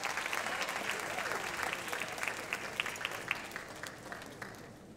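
Warm audience applause at the Ms. Senior DC Pageant 2016 for a contestant winning the best salesperson award, a dense patter of many hands clapping steadily and then tapering off toward the end.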